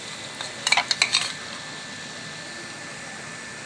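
A spoon clinks and scrapes against a pan as two spoons of white flour are stirred while cooking chicken steak rice, a short cluster of light metallic taps, then quiet background hum.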